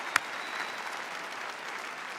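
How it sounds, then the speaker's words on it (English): Steady applause fills a graduation ceremony hall, with one sharp clap standing out near the start over an even wash of hands. "that does deserve applause"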